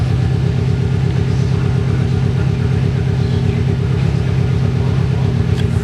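Exhaust of a 2-litre Subaru Impreza WRX, a UK car with 38,000 miles, running as a loud, steady, close engine drone with a throbbing low rumble and no talking.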